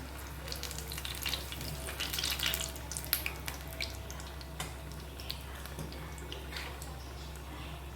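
Layered sandwich bread pakoda frying in shallow hot oil makes a soft, continuous sizzle with scattered pops and crackles, heard close and fairly quiet, with no voices.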